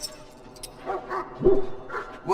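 A dog in the video game Dragon Age: Origins barks and whimpers in short yips, several close, moderately loud bursts with no talk.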